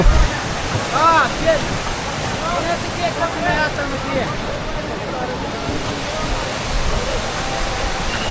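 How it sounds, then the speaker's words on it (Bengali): A waterfall on the Sindhu river roars in a loud, unbroken rush of water nearby on a mountain pilgrimage route, with a voice talking over it. "এই দেখুন সিন্ধু নদীর ঝর্ণা কি সুন্দর বয়ে আসছে, দারুণ লাগছে, কিন্তু জলের ব্যাপক আওয়াজ"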